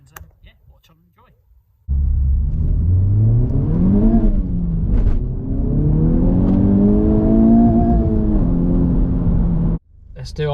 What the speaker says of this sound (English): I'm about to go and do my draggy test in this car, stock car